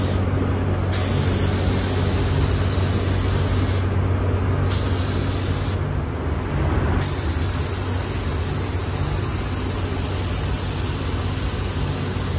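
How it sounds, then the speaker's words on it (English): Spray gun laying clear coat onto the fender of a 1966 Comet, heard as three close hissing bursts with a steady hum underneath between them and no talking. "Here he goes, spraying his first coat of clear."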